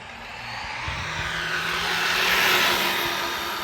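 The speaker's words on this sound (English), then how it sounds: "let's wait for the car to pass" A car passes along a road, heard as a broad rushing whoosh that swells to a peak and then begins to fade, with no one speaking.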